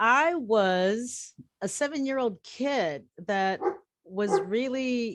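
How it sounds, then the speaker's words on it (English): A pet dog barks and yips in short bursts close by at home, interrupting an interview as a person keeps talking over it. "oops, sorry, that's my dog"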